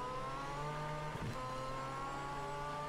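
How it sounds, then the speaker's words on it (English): Engine drone of a Ford Fiesta OMSE Supercar Lites, a small-engined rally-style race car in the Project CARS 3 racing game, holding a steady tone with a brief shift or blip midway, with no speech. "that engine sound, we have a small engine compared to those guys, but we can hear that engine"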